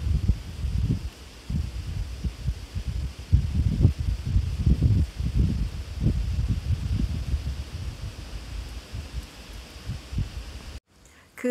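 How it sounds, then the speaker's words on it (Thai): Outdoor wind gusting into the microphone, a steady low rumbling buffet with uneven surges that drops out abruptly near the end. "ลม"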